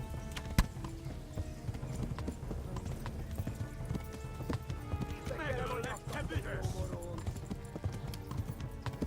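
Horse hooves cantering in the medieval game Kingdom Come Deliverance, a steady clip-clop rhythm under in-game music and effects, with a player talking over it.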